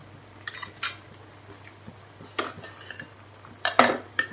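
A metal spoon clinks and scrapes against a pot while seasoning powder goes into a Thai chicken curry with coconut milk, giving a few sharp, close knocks scattered over near silence.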